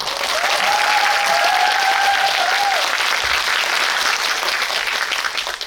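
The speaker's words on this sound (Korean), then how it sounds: "다시 한번 세 분께 박수 부탁드리겠습니다." Steady applause from a cinema audience at a film screening Q&A fills the whole stretch, dense and sustained, with a brief whistle-like tone near the start.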